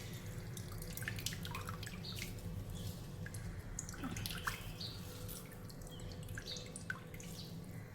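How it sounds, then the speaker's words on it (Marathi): Water drips and trickles softly from boiled bathua greens as they are squeezed by hand, faint irregular drops in a quiet room. "पूर्ण पाणी निचोडायचे आहे."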